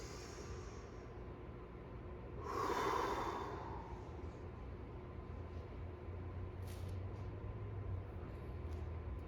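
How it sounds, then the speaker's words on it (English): Deep exhale during a breathing exercise for back pain relief, one soft breathy whoosh in the middle of a quiet, hissy room, faint and close, with no talking. "Big exhale."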